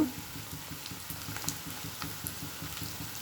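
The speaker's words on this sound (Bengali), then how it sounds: "পেঁয়াজগুলো ভাজা ভাজা করে নেব" Onions and halved tomato fry in oil in a pan, a faint steady sizzle with soft crackling pops throughout.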